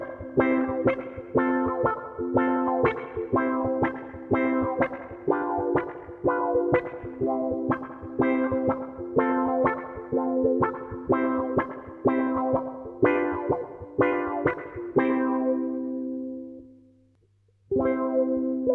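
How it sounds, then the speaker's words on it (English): An electro-acoustic Snail ukulele played through a Donner auto wah and reverb pedals, with steady strummed chords that sweep and swell, then a sustained ringing chord fading out before one last short strum. "this is my electro-acoustic Snail ukulele with reverb and a little bit of auto wah"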